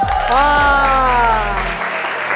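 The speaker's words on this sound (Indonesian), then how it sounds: "boleh tepuk tangannya semua dulu dong" A group of student council leaders at a youth leadership school gathering in Takalar claps together in steady applause beneath a loud sustained tonal hum that fades out near the end.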